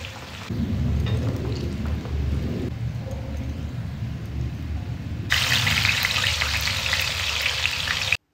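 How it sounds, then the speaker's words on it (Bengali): Loud bubbling sizzle of vegetables, including squash and carrot, deep frying in hot oil, growing brighter and crackling more intensely partway through, with no talking. "এখন আমি ভেজে নেব দেখো 5 রকমের ভাজা"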